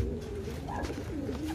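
Soft, low cooing from kept pigeons nearby in the Philippines, a few rolling throaty calls repeating over faint background noise.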